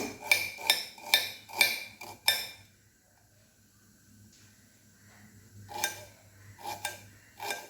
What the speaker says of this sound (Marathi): आता तेल तापेपर्यंत आपण कांदा बारीक चिरून घेऊया